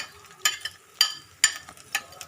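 Chopped garlic and green chili frying in a pan, with four sharp, evenly spaced scraping clinks of a spatula stirring over a faint sizzle.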